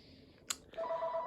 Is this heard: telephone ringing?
yes